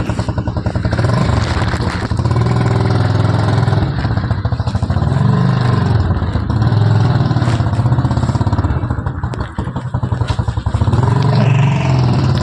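Motorcycle engine running steadily at medium revs throughout a ride to the station, loud and close with rattling clatter, with no talk over it.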